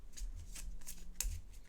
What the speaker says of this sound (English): let me shuffle that back into the deck